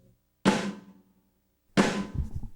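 Two sharp, bright snare drum hits with a crisp rattling buzz from the snares, spaced apart, each ringing briefly before fading; the second is followed by lighter taps.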